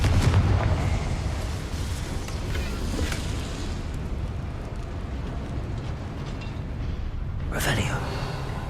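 A Confringo fire spell from Hogwarts Legacy erupts in a low rumbling blast that rolls on for several seconds, with a sharper crackling burst near the end.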